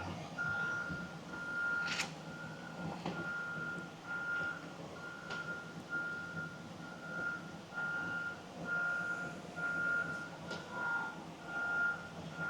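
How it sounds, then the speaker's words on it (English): Repeating reversing beeps from a construction vehicle sound at an even pace from a distance, about a dozen in a row, over a low rumble of machinery. "I'm sorry about the beeping if you guys hear that."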